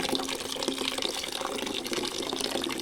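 Water is poured over cocopeat to soak it overnight for rooftop-garden soil, a steady close splashing and trickling flow that fills the whole clip with no talk.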